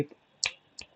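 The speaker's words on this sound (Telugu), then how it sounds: "చిటికేసి చెప్తున్నా, ఇప్పుడు అయిపోద్ది" Two sharp, crisp finger snaps ring out close by, spaced about a third of a second apart, after a brief vocal sound at the start.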